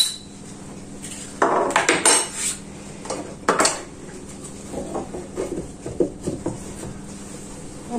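Eggs are cracked and separated into a bowl for a banana cake, with close clinks and taps of shell, spoon and dishware in several sharp bursts, then quieter scattered clatter.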